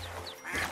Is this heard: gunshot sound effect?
no